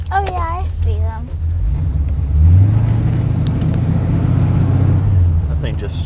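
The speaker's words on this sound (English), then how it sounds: "That thing just spun the wheels a little bit." A 1981 Corvette engine rumbles loud and close, swelling into a sustained roar as the car accelerates and briefly spins its wheels, with a voice heard at the start.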